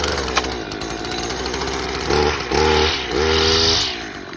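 A primed and choked gas lawn mower engine cranks with sputtering pulls, then catches in bursts of rough revving before settling, loud and close.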